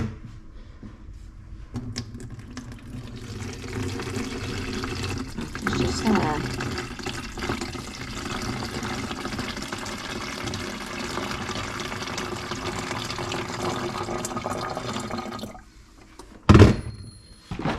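Water running into a container, filled up to a litre: a steady, fairly loud rushing pour of tap water that stops near the end, with a person speaking briefly.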